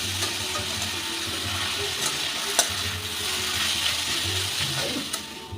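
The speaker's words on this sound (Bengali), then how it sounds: "এবার এই আলুটাকে আমি খুব ভালো করে ভেজে নেব।" Grated potato fries in ghee in a kadai, giving a constant close sizzle broken by the scrape and clatter of stirring and a few sharp knocks against the pan, with no voices.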